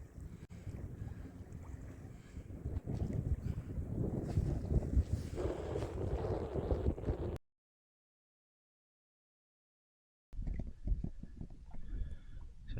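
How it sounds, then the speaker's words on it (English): Breeze blows across a Cromarty 36 sailing boat at anchor off the Scottish coast, a rough wind rush with buffeting on the microphone, dropping out to silence briefly before resuming. "There's a bit of breeze now though"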